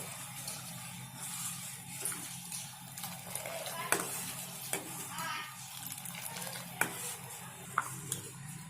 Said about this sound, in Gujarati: આ રીતે હલાવતા રહીશું.